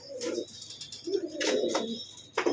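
A pigeon being fitted with a leg ring coos in three soft, throaty bursts, close by, with faint chirps and no talking.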